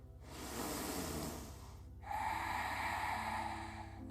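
Two deep inhalations during a yoga class, a softer breath followed by a stronger, airier one, close to the listener with no talking.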